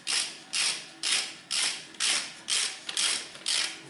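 A ratchet fastens wheel bolts on a front-wheel-drive car during a clutch job, eight evenly spaced clicking strokes about half a second apart, close and clear with no speech.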